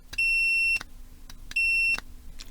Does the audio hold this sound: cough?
no